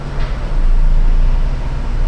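A Chevy engine runs at lowered revs, a heavy, steady low rumble close by that swells slightly after the first half-second, with no voices.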